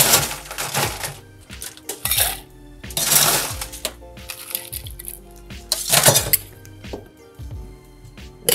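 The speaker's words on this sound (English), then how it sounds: "And then we're going to add ice and shake." A bourbon cocktail shaken with ice in a shaker tin, heard as bursts of rattling, clinking ice at close range separated by short pauses, with no talk.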